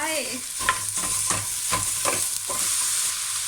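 Squid and beans sizzle over high heat in a stainless steel pot while a utensil scrapes and stirs in a steady rhythm against the metal.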